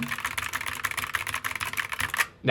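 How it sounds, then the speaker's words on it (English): Quick, clacky typing on a GamaKay MK61 60% mechanical keyboard with yellow switches and pudding keycaps, a dense run of keystrokes close up that stops abruptly near the end. "you guys might not like it if it's clickety-clackety, but I like it."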